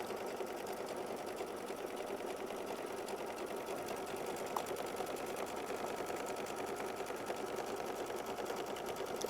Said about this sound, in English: now that we have our initial outline stitched down, it's going to go ahead and move up here and it's going to stitch down the outline for the hearts